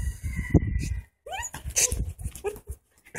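A playful puppy whimpers and yips in short, high, rising cries, close and fairly loud, with a brief pause before more yelps; a person's voice is faintly heard nearby.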